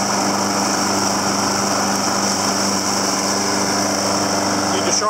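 John Deere JS60 walk-behind lawn mower engine running steadily, a close, loud, continuous high-pitched hum with no pauses.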